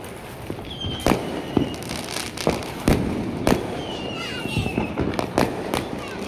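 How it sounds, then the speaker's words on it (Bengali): Firecrackers burst all around on Diwali night, sharp pops and bangs scattered near and far over a constant crackling background, with faint whistling rockets. "চারিদিকে কত বাজি ফাটছে দেখো"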